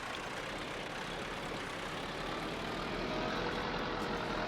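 A tractor engine in Farming Simulator 19 drones steadily and loudly at a constant pitch, with a deep low rumble and no talk.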